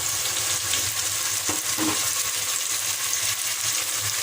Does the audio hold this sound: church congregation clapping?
no